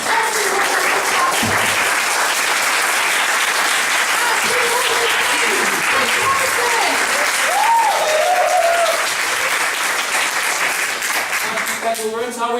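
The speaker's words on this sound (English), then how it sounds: "Please, begin to clap." Sustained applause from a comedy club crowd during a freshers' week show, steady and loud throughout with a few voices and whoops breaking through the clapping.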